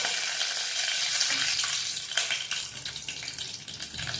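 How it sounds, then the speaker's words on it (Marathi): Mustard seeds and curry leaves crackle and hiss in hot oil nearby for sambar tempering, a continuous loud sizzle with sharp popping bursts partway through. "तेल गरम झालंय, खमंग अशी फोडणी देऊया आपण."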